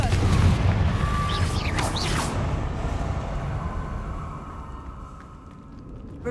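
A blasting-spell explosion from Hogwarts Legacy booms with a whooshing roar, then rumbles on as a long, fading tail.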